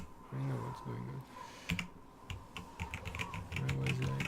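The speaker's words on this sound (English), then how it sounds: "I was like typing like an idiot." Rapid clicky typing on a computer keyboard comes in several bursts during a World of Warcraft session, with someone talking over parts of it.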